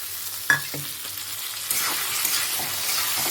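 Fried potatoes hit browned onions and spices in hot oil in a pan, opening with a sharp clink, then a rising, steady sizzle with light stirring scrapes.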